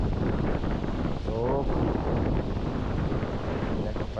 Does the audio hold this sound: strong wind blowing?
yes